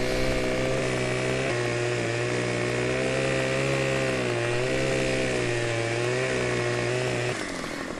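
Husqvarna chainsaw in Farming Simulator 17 cutting a tree: a loud, steady high-revving engine drone that holds for most of the stretch, shifts pitch slightly as it bites, then drops at the end.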